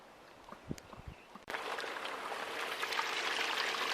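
Water rushes steadily through a hopper feeding a gold sluice box while prospecting in Montana. A few faint knocks come first, then a sudden, loud, constant wash of flowing water with no voices.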